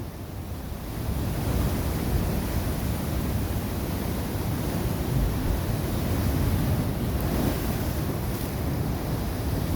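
Ocean surf roars continuously and loudly, waves surging and churning into the rock inlet of Thunder Hole in Acadia National Park nearby, with heavy wind buffeting the microphone throughout.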